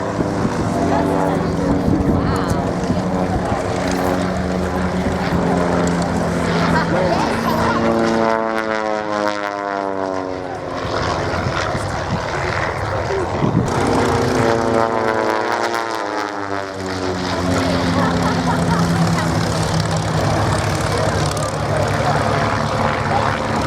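Propeller aircraft performing aerobatic manoeuvres at the Shoreham Airshow, a loud droning engine whose pitch sweeps up and down twice as the plane passes and turns, with a commentator speaking over the noise.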